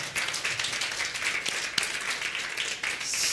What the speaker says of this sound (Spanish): ¿Alguien le podrá dar un aplauso al Señor?